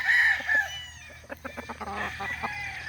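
Gamefowl stags (roosters) at a gamefowl festival cluck and call in a string of short, close bursts, with a brief crow-like cry at the start, heard alone with no talk.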